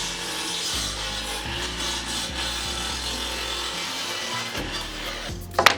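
Wood being cut to length in a workshop, a steady rasping power-tool drone with shifting low hum for several seconds, ending with a brief sharper burst.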